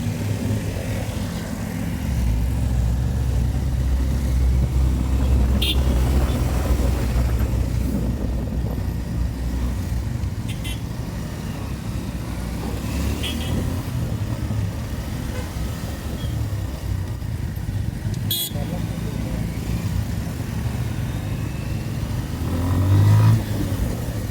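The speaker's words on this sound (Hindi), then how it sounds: "खतरनाक ट्रैफिक हुआ है।" Busy road traffic on a road in Diphu, Karbi Anglong, with cars and motorcycles rumbling and revving past in a steady, dense stream, engines swelling near and fading throughout with no talk.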